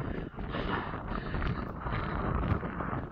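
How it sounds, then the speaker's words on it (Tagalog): Strong wind buffets the microphone outdoors near a landmark during rainy weather, a loud rough roar that surges and dips continuously, with no voices. "So malakas talaga ang hangin at saka maulan."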